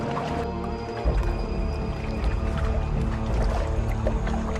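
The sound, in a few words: filling a water skin at a river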